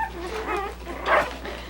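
Lively Coton de Tulear puppies whimper and let out a short yip, several thin, high, wavering cries close by indoors.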